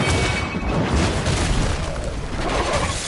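An explosion ability in the video game Marvel Midnight Suns bursts with a loud, rumbling boom and crackling debris that rolls on steadily for a few seconds.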